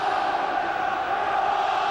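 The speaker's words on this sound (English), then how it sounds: "Now the crowd are suddenly getting a bit noisier." Dense, steady roar of a football stadium crowd at a 2005 UEFA Cup match between Sporting Lisbon and Middlesbrough, a broad wash of many voices holding at an even, fairly loud level throughout.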